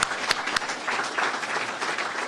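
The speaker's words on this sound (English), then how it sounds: "Let's give him another round of applause." Audience applause at a Florida governor's news conference in Cedar Key, a steady wash of clapping from a crowd lasting a couple of seconds at moderate volume, with no voices over it.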